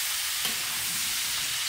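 Summer squash sizzling in a hot frying pan, a steady close hiss of frying with a faint stir, continuous and fairly loud.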